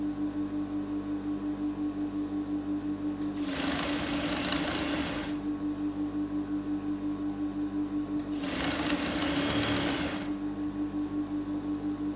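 A sewing machine stitching a half-inch seam in two loud, steady whirring runs of about two seconds each, separated by a quiet pause with a low background hum, close by, no talking.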